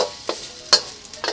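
Food is stir-fried in a hot pan for working-class Chinese fried rice, with a soft hiss of sizzling and a few sharp scraping strokes as the ingredients are tossed and stirred, close up and with no talk.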